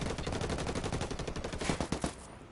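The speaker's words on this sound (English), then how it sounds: "Under heavy fire." Heavy, continuous automatic gunfire in a shooter video game, a dense rapid rattle of shots that runs loud and close through the whole clip and thins out slightly at the end.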